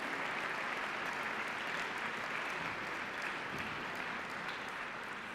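Steady, dense applause from a large crowd at a science competition awards ceremony, many hands clapping evenly throughout with no voices standing out.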